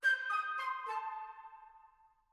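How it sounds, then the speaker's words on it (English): Flutes alone play a brief descending run of four soft, airy notes, the last one sustained and slowly fading, quiet and clear with no voices. "And just listen to those flutes on their own."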